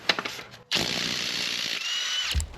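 A power tool whirs loudly at close range, removing the 21 mm crank pulley bolt on a Chevy Cobalt engine. After a few brief clicks it runs in one sustained burst of nearly two seconds, then stops with a clunk.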